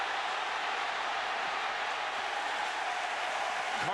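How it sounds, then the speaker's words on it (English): Stadium crowd at a 2009 Oklahoma at Miami college football game roaring in a steady, loud, broad wash of cheering and applause that holds for the whole stretch without a break. "now the crowd has something to be excited about"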